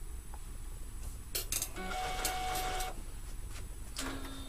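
A desktop inkjet printer with a continuous ink system runs a nozzle check, its print head shuttling with whirring and clicking mechanical sounds over a low hum, with no voices.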